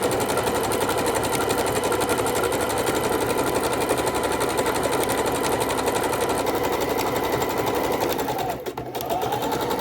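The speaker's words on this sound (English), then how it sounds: "the heavy-duty Singer machine set on the S1 under the length" Heavy-duty Singer sewing machine running a steady double zigzag stitch for a raw-edge appliqué scrap quilt, a continuous fast mechanical whir close up that keeps up throughout before briefly dipping near the end.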